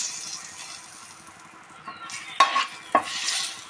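Bay leaves, cardamom and cinnamon fry quietly in butter with a soft hiss, broken by a couple of sharp clinks and scrapes of a utensil against the pan.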